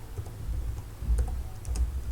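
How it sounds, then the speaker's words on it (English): Quiet, steady typing on a computer keyboard, a run of soft irregular key clicks close by with a few louder taps, and no talk over it. "I'm just going to double click again here and then write Willy"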